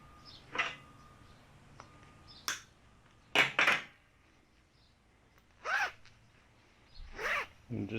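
A zipper being drawn along a protective sheath over a MIG welding gun cable, heard as several short, close rasping pulls separated by brief pauses, with no voices.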